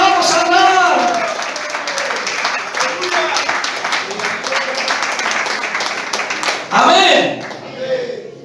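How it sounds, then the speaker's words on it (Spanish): A church congregation claps in praise, dense sustained applause with a voice speaking over it and a brief louder burst near the end. "Aplaudan y dile gloria, gracias Jesús"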